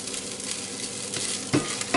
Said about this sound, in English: now our rice is frying